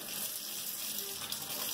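Lukewarm tap water pours steadily into a container, filling it about halfway for washing shellac 78rpm records; a continuous soft hiss and gush with no talk over it.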